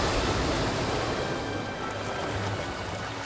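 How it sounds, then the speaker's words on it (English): Dolphins rush full force toward a muddy shore and push a bow wave up the bank, a steady, close rush of churning water and surf with no voices. "they push full force into the shore, creating a bow wave that flushes the fish onto the banks."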